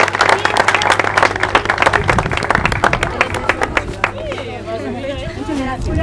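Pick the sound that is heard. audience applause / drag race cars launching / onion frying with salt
audience applause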